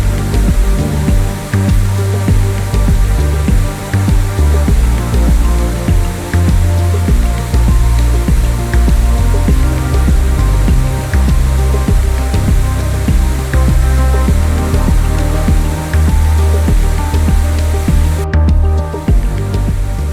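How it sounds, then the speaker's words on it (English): Mendri Ghumar waterfall in Bastar during monsoon season, a loud, dense, continuous rush of falling water heard up close, with steady broadband roar and no voices. "I saw the waterfall living its best days in the monsoon season"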